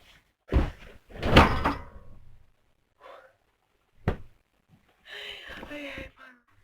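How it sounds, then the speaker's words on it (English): Someone jumps onto a bed several times, each landing a heavy thump with creaking and rustling, separated by short pauses, close and fairly loud. "This is a compilation of me jumping onto my bed."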